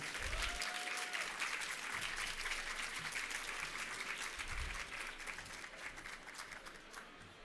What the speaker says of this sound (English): please join me in a round of applause for Dr. Pamela Davidson.